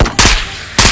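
Gunfire from the virtual-reality shooter Ghost of Tabor comes as two loud, close, sharp bursts about half a second apart, each with a brief decaying tail.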